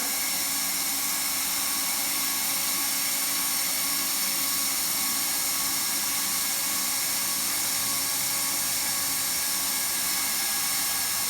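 A hot air welding gun runs while welding a seam in vinyl sheet flooring, giving a steady, unbroken high-pitched blowing hiss with a faint motor whine. The noise stays constant and fairly close for the whole stretch, with nobody speaking.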